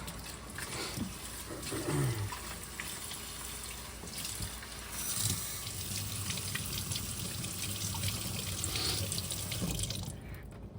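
Running tap water pours steadily for about ten seconds as a Gold Dollar straight razor is rinsed after honing, with a continuous close splashing hiss and small shifts where the blade moves through the stream.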